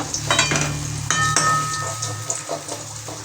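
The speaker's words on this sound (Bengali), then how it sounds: "খুব আস্তে আস্তে কাটতে হবে, কেননা ডিমটা যেন সাবধানে এটাকে কেটে নিতে হবে।" A spatula scrapes and cuts through an egg frying in a pan over a steady sizzle, with a few close metallic scrapes and taps against the pan surface.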